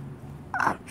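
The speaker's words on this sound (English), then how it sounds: "Birds." A single short bird call rings out outdoors, a brief harsh caw-like note standing out over quiet background.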